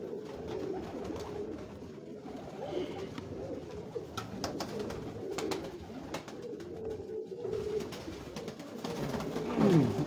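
Pigeons of an old Tony breed coo in a loft, a continuous low, throaty murmuring that runs steadily throughout, fairly close, with no talk over it.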